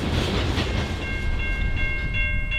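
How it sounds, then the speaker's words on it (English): A CN freight train hauling iron ore and mixed freight rolls past on rails, giving a steady loud rumble with faint clicking of wheels over joints and a sustained high metallic squeal setting in partway through. "Behind the iron ore, a cut of mixed freight follows along"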